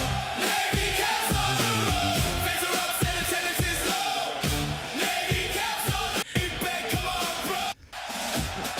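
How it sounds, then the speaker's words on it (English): Stadium crowd raising a loud, sustained chant with rhythmic shouts and yells, the mass of voices steady and close throughout, dipping briefly near the end. "The crowd chanting."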